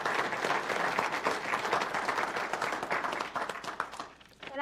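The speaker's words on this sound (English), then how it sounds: "This would be a good time for a round of applause." Audience applause rises at a Kansas City Star editorial board town hall with Congressman Kevin Yoder, a lively, full round of clapping from the room that thins and fades near the end before picking up again briefly.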